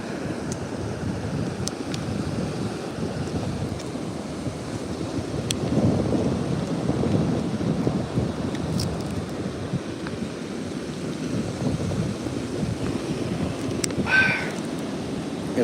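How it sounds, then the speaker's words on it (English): Ocean waves roll in steadily on a shoreline, a continuous low rumbling wash of surf that swells slightly midway, heard alone without talk. "watch the waves roll in."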